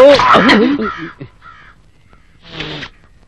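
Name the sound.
crow cawing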